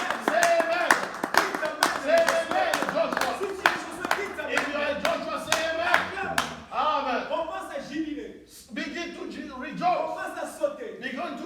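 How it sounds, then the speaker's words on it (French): A church congregation claps hands together in a fast, steady rhythm, loud and close, while a preacher's voice carries over the clapping throughout. "Clap your hands."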